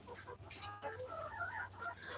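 Chickens on a working farm clucking in a steady, busy jumble at moderate distance, with a fowl call that may be a rooster crow rising partway through and low farm background hum underneath.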